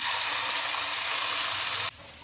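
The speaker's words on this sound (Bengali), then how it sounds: "বেটে রাখা মশলাটা দিয়ে দিচ্ছি" Ground spice paste fries in hot oil and ghee for shahi paneer, a loud, dense, close-up sizzle that holds steady and then drops off abruptly near the end.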